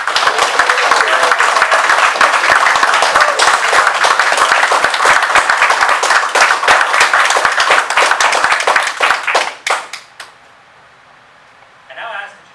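A crowd at a Coast Guard behavioral health technician graduation ceremony gives dense, sustained applause. The clapping thins out and fades after about nine seconds, and a few scattered claps follow.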